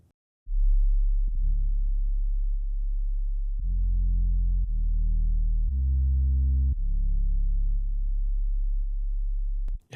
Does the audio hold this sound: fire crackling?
no